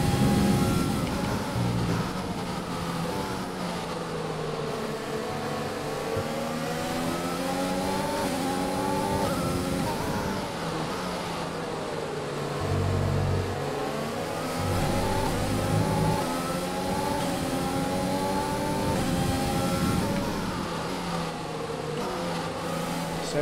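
An F1 race car engine in the F1 2020 racing game on the French Grand Prix circuit revs continuously, its pitch rising and falling through repeated gear changes, loud and close with no voices.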